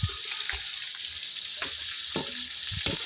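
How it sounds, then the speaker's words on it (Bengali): Fish frying in a pan and being flipped, a loud continuous hiss of hot oil close up, with a few soft clunks from turning the pieces. "এই সিটে দেখুন মাছগুলো ভাজা শেষ এখন উল্টে দেওয়া হচ্ছে"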